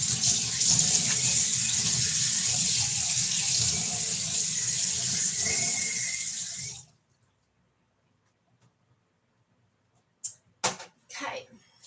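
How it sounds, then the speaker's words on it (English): A zested lemon is rinsed under a running kitchen tap, giving a steady, fairly loud rush of water that stops abruptly, followed by silence and a few brief knocks. "Let me rinse that first before I do anything else."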